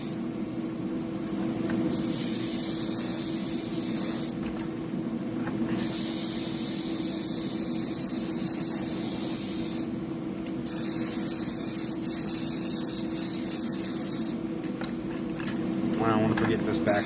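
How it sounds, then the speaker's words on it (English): Auto-borne sealer sprayed from an aerosol onto a cleaned fishing lure, three long close hissing bursts separated by short pauses, with a person talking between sprays. "Let's throw down some auto-borne sealer here."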